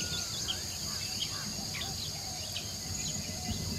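Dense, steady buzzing and trilling of insects on a jungle forest floor, with scattered faint bird chirps over a constant hum; no voices.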